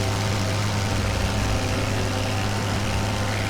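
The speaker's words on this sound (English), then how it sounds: "But I hear the buzzing of other FOKKER engines." Several World War I Fokker aircraft engines in the game Wings Over Flanders drone steadily, a dense continuous buzzing hum with no break and no talk.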